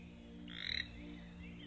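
A child imitates a frog croak, producing a short, raspy voiced croak near the middle of the clip over a steady background hum, with no other talk.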